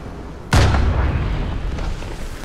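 A sniper shot in Fortnite lands as a single loud, sharp crack with a booming echo that rolls off over the next couple of seconds.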